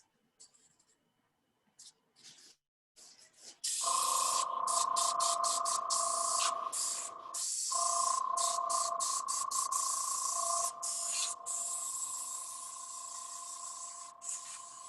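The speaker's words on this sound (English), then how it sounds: "And I'll show you the airbrush too." An airbrush sprays ink with a steady, close hiss that starts a few seconds in and runs to the end, broken by brief pauses, after a quiet opening with a few small clicks.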